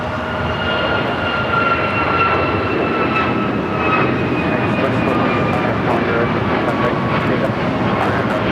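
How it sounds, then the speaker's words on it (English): A United Express SkyWest Embraer E175 jet arriving at LAX from San Diego gives a loud, sustained engine roar with a slowly falling whine, and a voice talks over it. "Flight coming in from San Diego, United Express SkyWest, flight 5249"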